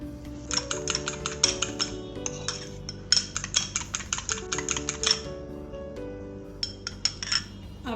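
A spoon beats a wet batter of egg, flour, milk and a pinch of salt in a bowl, making rapid, close, rhythmic clinking and tapping strokes in bursts with short pauses, over soft background music and no talking.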